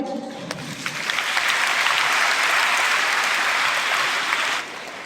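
Sustained applause from a large audience at a Hindi poetry recital, steady and loud for several seconds before stopping abruptly.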